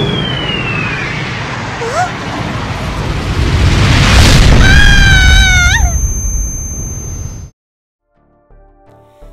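A bomb blast rumbles loud and broad for several seconds, swelling to a peak before cutting off abruptly into near silence, with whistling, meow-like tones mixed in over the roar.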